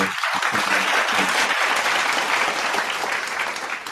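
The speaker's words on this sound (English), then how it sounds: "let's give them our virtual clap to thank our." Applause of thanks at an online Asia Pacific club meeting, a steady broad wash of clapping from many hands, moderately loud, with a brief low sound at the start before it settles.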